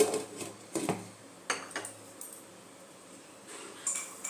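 A pot lid is lifted off a pan of cauliflower roast cooking on the stove, giving a few light metallic clinks and scrapes that are close and fairly quiet, spread over a few seconds with soft kitchen clatter between them.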